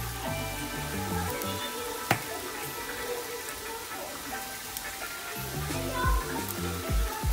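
Hamburger meat and tomato sauce sizzle steadily on a Blackstone griddle, a continuous crackling fry with occasional sharp scrapes and clicks of a spatula, loud and close throughout.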